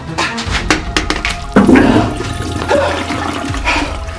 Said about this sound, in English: I'm flushing!